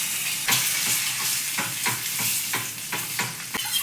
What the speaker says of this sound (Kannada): ಇವಾಗ ಎರಡು ಮೊಟ್ಟೆನ ಹಾಕಿ ಒಂದು ಸ್ವಲ್ಪ ಫ್ರೈ ಮಾಡ್ತೀನಿ